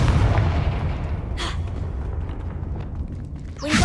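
A Confringo blasting spell explodes in Hogwarts Legacy: a heavy, rumbling boom fills the opening, followed by a sustained low roar, with a sharp crackling burst midway and another blast at the end.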